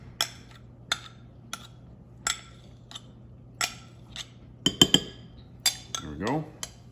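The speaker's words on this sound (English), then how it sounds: "And scrape off the sides of this container." A utensil scrapes sourdough starter from the sides of a container over salt and flour, making a series of sharp scraping clicks and knocks at irregular intervals, each short and close, with a brief rubbing sound near the end.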